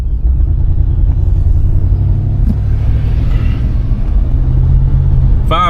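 A 1987 Cadillac Brougham drives and accelerates, its engine giving a loud, steady low rumble close by with a brief sharp knock midway and a short squeak at the end.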